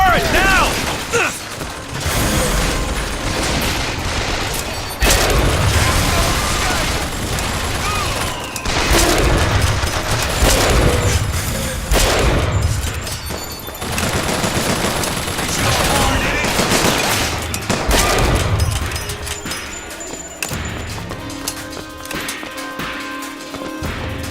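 An automated turret in the BioShock Infinite video game fires bursts of rapid gunfire, loud and chaotic, mixed with mechanical clanks, crashes and combat noise throughout.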